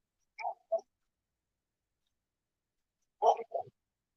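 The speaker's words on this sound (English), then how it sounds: "That dog needs to be quiet." A dog at the beach barks in two pairs of short, sharp yaps separated by a pause of a few seconds, fairly close and alone against silence.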